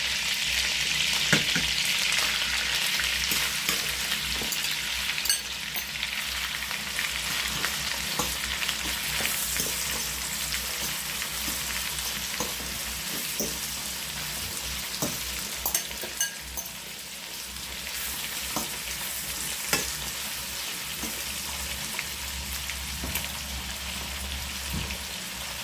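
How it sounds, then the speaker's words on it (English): Beef frying in a pan for shrimp, meat and sausage fried rice, a sustained hissing sizzle with spatula stirring and scraping, loud and close, easing slightly partway through, no talking. "Now I'm going to add the beef in there. And fry that a little bit."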